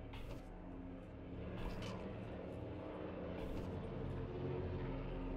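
Helicopter in the video game Call of Duty Black Ops 4 Blackout battle royale: a steady, droning rotor and engine roar fills the whole stretch at moderate level, with a few brief sharper bursts over it.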